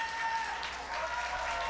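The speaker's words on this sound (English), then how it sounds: "And you can hear the crowd going wild." A crowd cheers and applauds at a Falcon Heavy rocket launch, a sustained wash of clapping and voices heard from a distance, steady throughout.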